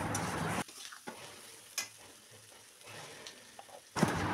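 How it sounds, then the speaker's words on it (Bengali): Potatoes and soya chunks with chopped green chilli stir-fried in oil, bursts of loud sizzling and spatula scraping broken by quieter gaps, with a final surge of frying at the end; no voices. "ওর মধ্যে লঙ্কা কুচিও দিয়ে দিয়েছি, দিয়ে ভালো করে নেড়ে একটু কষিয়ে নেব"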